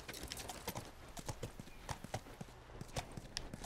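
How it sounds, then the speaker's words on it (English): Horse hooves clip-clop in The Last of Us, a steady fast run of hoof strikes on hard ground that stays close and prominent for the whole stretch, with a faint hint of speech underneath. "What you doing with that horse there?"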